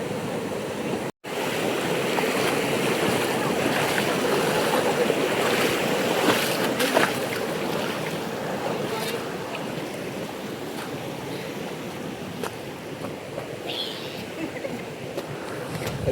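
Rushing waterfall stream water roars steadily as someone wades in on a trek to a Maharashtra waterfall, a broad continuous wash with light splashing and wind buffeting the microphone.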